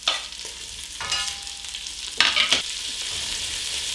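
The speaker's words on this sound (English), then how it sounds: "I'm adding my diced onion to the bacon and the bacon fat." Diced onion dropped into bacon and hot bacon fat in a pot for German split pea soup, a steady close sizzle with a few louder bursts as the pieces are stirred, no voices.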